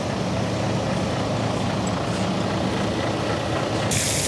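A lorry drives with a loud, steady engine and road roar heard from the cab, and a sharp hiss bursts in near the end, likely from the lorry's sharp air brakes.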